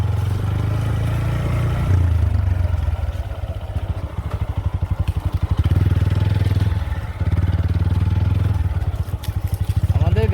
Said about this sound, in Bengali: নিজে বাইক চালানোটা আসলে একটা চ্যালেঞ্জিং বিষয়।